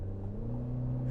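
A 2026 Chevy Silverado 1500 LT pickup with the 2.7L turbo engine pulls away under acceleration, a steady low engine drone with a rising whir that fills the short moment with no talk over it.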